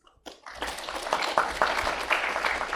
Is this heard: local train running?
no